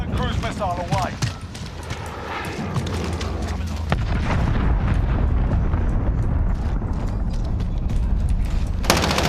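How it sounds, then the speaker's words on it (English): An allied cruise missile in Call of Duty Modern Warfare hardcore mode strikes with a deep booming explosion that rolls into a long, loud rumble, after scattered gunfire and with a voice talking. "Allied cruise missile away."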